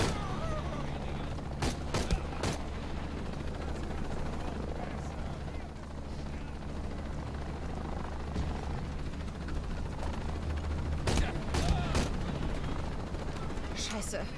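Gunfire from a newly acquired weapon in Shadow of the Tomb Raider, sharp shots in several short bursts around two and eleven to twelve seconds over a steady helicopter-like rotor drone.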